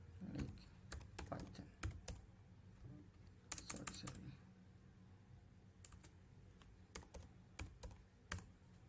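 Computer keyboard typing at a server terminal, quiet and close, with irregular bursts of key clicks separated by short pauses, no talking.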